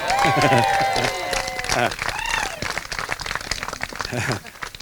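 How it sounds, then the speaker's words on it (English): Wedding guests in Spain applaud the bride in a steady patter of clapping, while a voice talks and sings over the top near the start. "I really think she deserves another round of applause."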